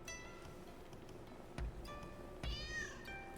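A cat meows several times in a quiet indoor space, high and fairly close, the calls running together with a faint background hum and two soft knocks.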